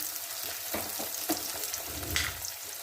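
Spice masala frying in a pan for fish curry, a close crackling sizzle with a few quick spoon scrapes and taps as it is stirred, brief and without speech.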